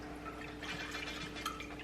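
Cinnamon-steeped rice milk poured into a cocktail mixed with white chocolate liqueur, a quiet, close liquid trickle and drip lasting a couple of seconds over a low background hum.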